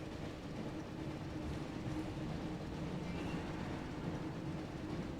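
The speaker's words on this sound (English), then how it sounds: "Looks like we found the train, Ron." Steady rumbling train noise from the Harry Potter and the Chamber of Secrets PS1 video game, a faint continuous rolling drone with no distinct clacks, heard alone.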